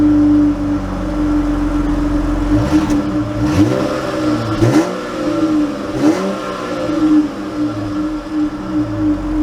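A 2022 Chrysler 300 Touring L AWD pulling away from a stop, engine revs sweeping up and dropping through several gear changes, with a steady drone underneath and no talking.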